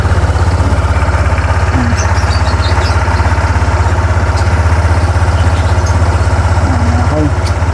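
A Honda ADV 160 scooter engine, fitted with a stainless skidplate, idles steadily with a low, even putter throughout, with a few faint squeaks on top.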